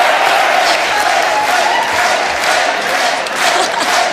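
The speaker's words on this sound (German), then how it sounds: "Das ist euer Applaus, das ist sehr lieb." A studio audience at a German folk-music TV show applauds steadily and loudly, dense clapping with some cheering mixed in, sustained without a break.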